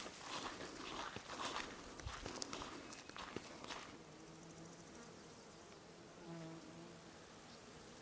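Bees buzz and drone close by on roadside sweet clover flowers outdoors, a low hum that steadies after some rustling footsteps early on.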